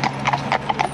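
Horse hooves clip-clop on tarmac in an even, close rhythm as the horse is brought over during a driving lesson.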